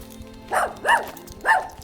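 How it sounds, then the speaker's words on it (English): A dog barks three times in quick succession, clear and fairly close, over a faint low background hum. "Always a barking dog."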